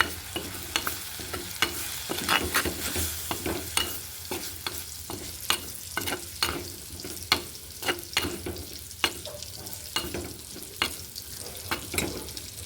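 Chilli, coriander, pepper and turmeric powders fry in oil with a soft steady sizzle, broken by repeated scraping and stirring strokes of a spoon against the pan.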